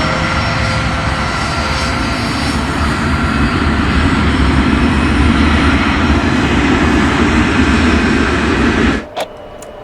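Avro Arrow jet engines run at a steady, loud roar before takeoff, a dense sustained rumble with high whine that holds for about nine seconds and then cuts off abruptly, followed by a brief faint knock.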